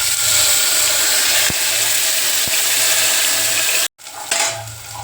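Hot oil vaghar with asafoetida and turmeric sizzling loudly and steadily as khichdi goes in, with a couple of sharp clicks, then a sudden brief cut and the frying resumes.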